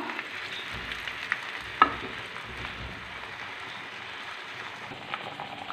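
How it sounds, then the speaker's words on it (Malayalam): Dried fish frying in coconut oil gives a quiet, steady sizzle with faint crackles and a few small pops, heard alone and close. "നമുക്ക് മീൻ വറുത്തെടുക്കാം"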